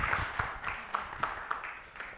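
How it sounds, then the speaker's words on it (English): A small audience at a national youth conference on the SDGs gives a short, faint round of applause for a speaker, with sparse individual claps heard distinctly. "A round of applause"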